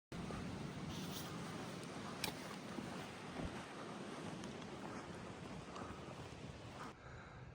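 Wind blows steadily on the south-east English coast between Brighton and Dover, a constant broad rush with faint surf beneath, a few brief gusts or knocks, and no talking.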